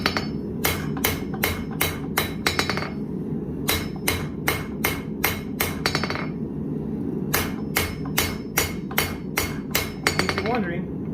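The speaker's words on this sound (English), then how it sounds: "While it may look like I'm just pounding the heck out of this thing, the rebound of the anvil" A 1,000 gram hammer pounds steel on an anvil while forging a Viking seax knife, in quick rhythmic runs of ringing strikes, pausing between bursts, loud and near over a low steady hum.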